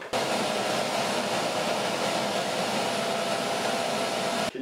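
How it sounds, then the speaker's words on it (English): A vacuum cleaner runs loud and steady close by, a continuous broad whooshing roar that starts and stops abruptly, with no one speaking. "Just a quick vacuum?"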